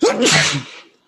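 A single sharp sneeze, close and loud, with a quick burst that trails off into quiet.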